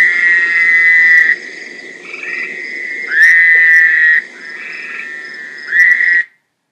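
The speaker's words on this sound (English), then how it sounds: "Its unmusical call has been likened to the sound of a sheep in distress." A Vermont toad gives a harsh, bleating call like a distressed sheep, sounded as four loud, drawn-out bursts separated by short pauses, close by and alone.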